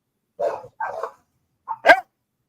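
A dog barks alone in a few sharp, close bursts: two quick barks, a pause, then a shorter yip and a louder bark.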